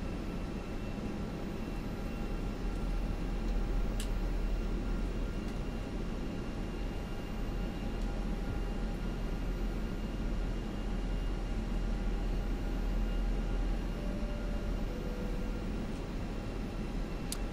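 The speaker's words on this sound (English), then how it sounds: "All right, airplane's going to make the right turn over now." Steady, broadband roar of Airbus A320 jet engines in the X-Plane 11 flight simulator, continuous and even in level throughout, with faint tonal whines and an occasional click but no talking.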